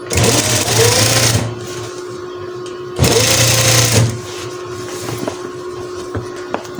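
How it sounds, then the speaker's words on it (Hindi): A sewing machine stitching buckram for a farshi shalwar, two loud close bursts of rapid mechanical stitching of about a second each, separated by quieter pauses with small clicks. "इस तरह से हमने 1 पाँव का फासला देकर इसकी सिलाई लगा लेनी है"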